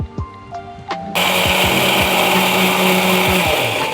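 A few soft kitchen clatters, then a mixer grinder switches on and runs loudly and steadily, whirring as it grinds ginger and garlic with a little water into a paste.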